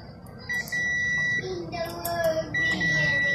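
A continuity tester's buzzer sounds in repeated high-pitched beeps while probing a newly replaced fuse from a rice cooker, with a person talking underneath between the tones.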